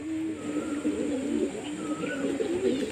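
Several pigeons being fed grain coo continuously close by, soft rolling calls overlapping one another, with occasional thin higher notes.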